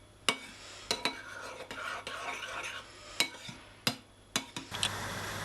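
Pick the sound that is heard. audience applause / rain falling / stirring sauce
stirring sauce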